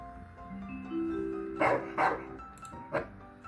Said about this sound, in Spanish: Un perro.